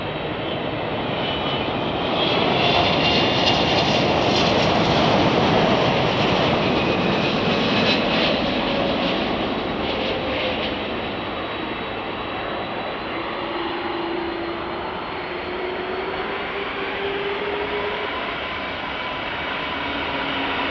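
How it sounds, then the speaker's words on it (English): A United Boeing 777 landing at Chicago O'Hare Airport, its engine roar swelling loud and steady, then easing into a sustained whine as it passes and rolls on, with no voices. "We got another 777 about to land here."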